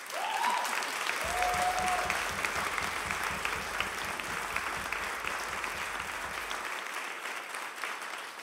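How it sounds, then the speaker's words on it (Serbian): An audience at an award ceremony for composer Slobodan Marković breaks into sustained, dense applause that fills the room at a steady level throughout. "Ovaj aplauz sve govori."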